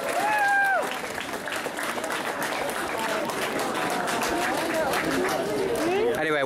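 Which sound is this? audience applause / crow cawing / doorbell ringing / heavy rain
audience applause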